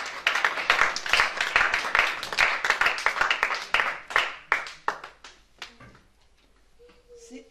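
A church congregation claps and applauds the Lord in a lively burst of many hands, loud at first and then thinning into scattered claps that fade out near the end.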